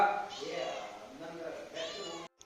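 A house cat meowing close by in a few drawn-out, wavering calls that run almost without a break before cutting off near the end.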